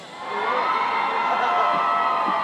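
A crowd at a breakdance (b-boy) competition livestream cheers and whoops loudly, a sustained roar of voices and shouts that swells after a brief start and holds steady.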